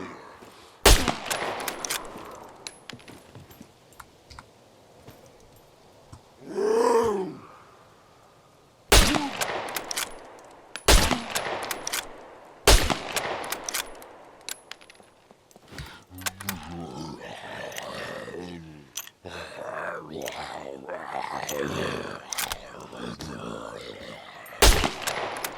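A common hunter rifle fires in SCUM, giving sharp, isolated shots spaced several seconds apart. A roaring, animal-like growl and some clustered cracks sit between them.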